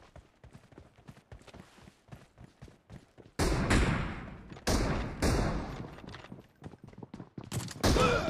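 Gunfire in the BGMI mobile shooter: a rapid patter of small shots, then several loud, sustained bursts of heavy fire in quick succession.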